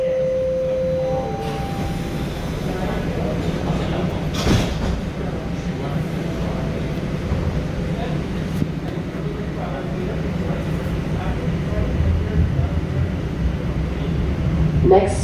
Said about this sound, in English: Please stand clear of the doors.